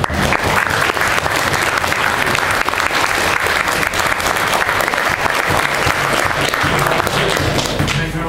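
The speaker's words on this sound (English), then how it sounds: "So round of applause" A large crowd applauds steadily and loudly, dense clapping filling the whole stretch without pause.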